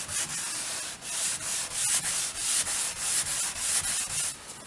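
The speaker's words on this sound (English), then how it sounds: "And you literally just scrub and it'll take the rust" Rhythmic scrubbing of surface rust off an original-paint car panel, repeated close back-and-forth rubbing strokes at a steady pace with no talk.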